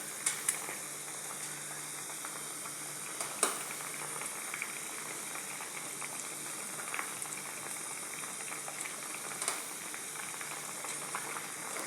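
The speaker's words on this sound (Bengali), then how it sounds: "আমার ঝোল ফুটে উঠেছে। এখন আমি তিত করলা পাকোড়াগুলোকে দিয়ে দেব।" Curry broth at a rolling boil in a pot as fried bitter gourd pakoras go in, giving a steady bubbling hiss with a few sharper splashes and clinks over nearly twelve seconds, no voices.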